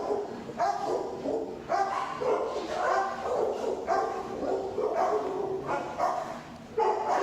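A barrier-reactive shelter dog in a glass-front kennel barks in repeated harsh bursts, close and fairly loud, with a steady rhythm of barks and short gaps between them.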